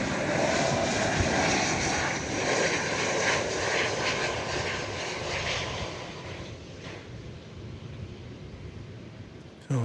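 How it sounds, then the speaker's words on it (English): A Boeing 747 jet airliner arriving at DFW Airport produces a steady, loud broadband engine roar that holds for several seconds and eases slightly toward the end, with no talk. "So there it is, the distinctive silhouette of a 747."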